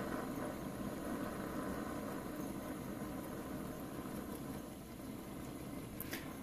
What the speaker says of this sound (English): You can hear how quiet the engine is.